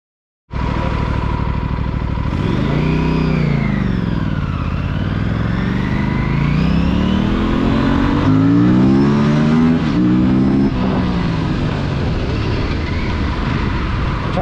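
An Aprilia RS457 motorcycle engine revs while riding on a test drive, loud and close, rising and falling through the gears in long sweeping pulls that climb repeatedly to higher revs.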